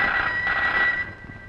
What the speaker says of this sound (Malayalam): ആരോ വിളിക്കുന്നു. വിളിച്ചോട്ടെ. ഫോൺ എടുക്കുന്നേ.